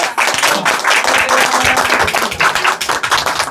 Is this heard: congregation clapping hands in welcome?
yes